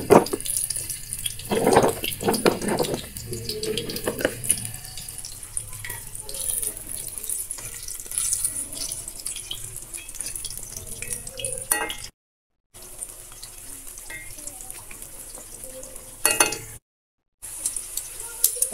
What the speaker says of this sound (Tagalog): Prito muna natin tong ating mga kamote.